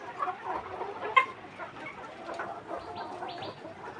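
Caged chickens cluck softly and intermittently close by, with a few sharper squawks over a low background hum.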